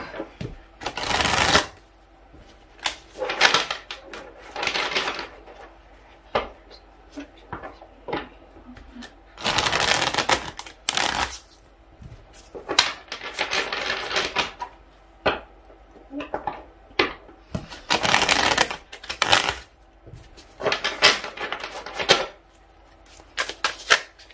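Tarot cards shuffled by hand in repeated bursts of riffling and flicking, close and fairly loud, with short pauses between rounds and no talking.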